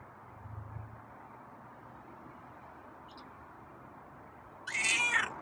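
A faint, quiet room hum, then one short meow near the end, close and fairly clear.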